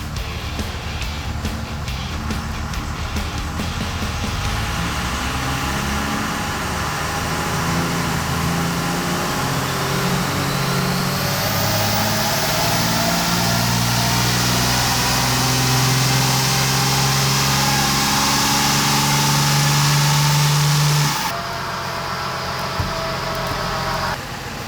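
A 600+ HP 12-valve Cummins diesel runs on a dyno, a loud sustained engine drone whose pitch climbs steadily through a long pull before dropping off near the end, close and without talk.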